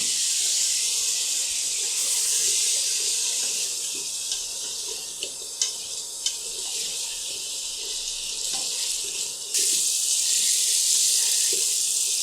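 Loud, steady sizzling hiss of water splashed into frying spices in hot oil in a pan, continuous throughout with a few small pops and crackles.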